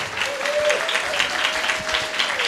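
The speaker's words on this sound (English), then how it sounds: "let's give our newest members a round of applause." A church congregation at a Sunday service claps to welcome new members, a full, steady round of applause in the hall with a faint sustained tone underneath, lasting under three seconds.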